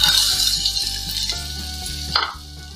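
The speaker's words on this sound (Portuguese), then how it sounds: "E vou refogar essa cebola." Chopped onion sautéing in olive oil over low heat, a dense, steady crackling sizzle heard up close with a few soft knocks of a utensil, no one speaking.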